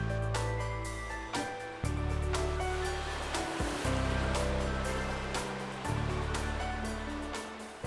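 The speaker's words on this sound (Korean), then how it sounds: "쉴 새 없이 파도가 밀려오고" Rough sea on the rocky shore of Christmas Island sends waves crashing onto the rocks in a loud, continuous roar, with heavy surges breaking every second or two.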